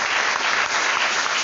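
A church congregation claps during a wedding service, dense steady applause filling the space without a break, loud and close.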